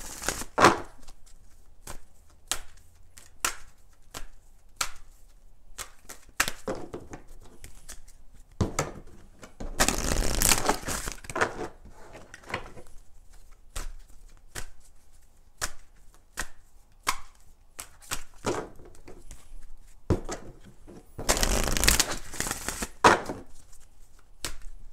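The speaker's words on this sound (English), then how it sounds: "Let's do three shuffles with this deck" An oracle card deck is shuffled by hand, with dense riffling bursts and scattered sharp taps and flicks of cards spread over the stretch, close and fairly quiet.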